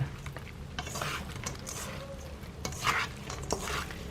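Grilled tofu being tossed with seasoning in a bowl, giving soft moist stirring and light clinks of a utensil, with wet squishy sounds rising near the end; fairly quiet and steady, with no talking.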